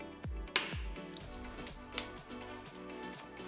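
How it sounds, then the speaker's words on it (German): Two eggs fry in a very hot pan, giving a steady close sizzle with scattered pops and crackles throughout. "In der Zwischenzeit die Pfanne wieder drauf, volle Pulle, zwei Eier wieder rein."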